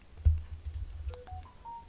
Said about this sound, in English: Apologies if you can hear a phone going off.